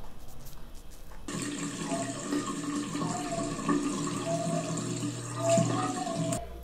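Bathroom tap water running steadily into a sink during a face wash with cleansing foam, starting abruptly after a quiet second and continuing at a fairly close, even level with small splashes, no talking.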